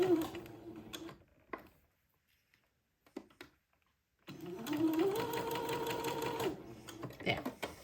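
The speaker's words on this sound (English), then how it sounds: "with a straight stitch, stitch the entredeux to the back of the garment" A sewing machine straight-stitching entredeux onto the back of a handsewn day gown, running in two steady mechanical bursts separated by a pause, with brief talk and handling noises around them.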